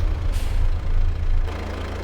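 A tractor engine idles in Farming Simulator 22 with a low, steady rumble, briefly overlaid by a short hissing burst.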